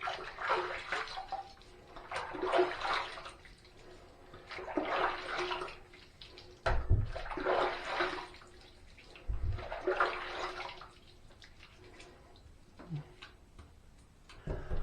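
Water from a sink tap runs in several separate bursts while a freshly shaved head is rinsed, splashing and close, with quieter pauses between pours.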